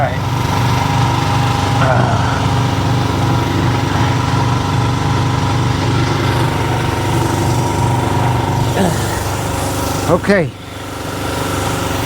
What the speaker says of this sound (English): I don't know how well you can hear me over the air compressor